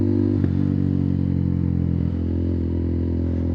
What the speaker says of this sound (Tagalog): napakalakas ng muffler natin, no? Napakalakas ng tunog, nakakabulahaw.